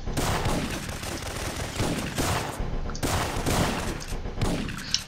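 Sustained video game gunfire from Syphon Filter 3 on PlayStation, a dense continuous fusillade of rapid shots lasting several seconds, loud and close with no one speaking.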